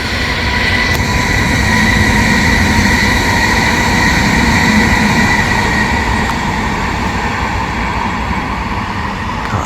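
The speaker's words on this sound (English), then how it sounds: "Here's the train" A train rolls past on the tracks close by at night, a loud, continuous rumble and clatter of wheels and cars that stays strong from start to finish, with no talking.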